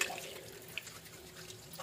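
Water runs briefly from a tap over a bar of handmade cold process soap being rinsed, a soft steady splashing with a faint drip, quiet and close.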